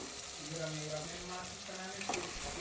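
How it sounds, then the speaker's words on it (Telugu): Washed mutton frying in hot oil in a pan, a soft continuous sizzle with faint stirring, quiet and close, with no talking. "ఇప్పుడు వేసుకున్న మటన్ అయితే నూనెలా కనీసం ఒక పదిహేను నిమిషాలు అయితే ఉడకనిస్తానండి"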